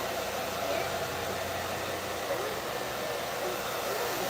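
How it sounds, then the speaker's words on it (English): Handheld blow dryer drying natural hair during a burgundy quick weave install, a loud, steady, close rushing whir that continues the whole time. "I'm just gonna go in with the blow dryer and blow dry"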